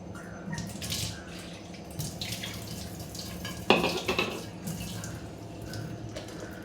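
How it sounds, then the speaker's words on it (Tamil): Water poured from a rinsed mixer jar into a pan while making mor kulambu (buttermilk curry) in a home kitchen, a steady close trickling splash with a brief louder gush midway. "கொஞ்சோண்டு தண்ணி ஊற்றிக்கலாம்."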